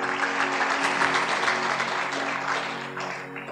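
A church congregation at a sermon claps loudly and steadily, a dense patter of many hands sustained throughout with a faint tonal hum beneath.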